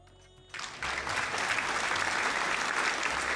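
A burst of applause from a crowd kicks in after a brief pause and continues steadily, loud and dense.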